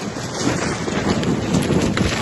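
Strong wind gusts roar across the microphone outdoors on a trip between Mantralaya and Hampi, a continuous loud rushing with no speech.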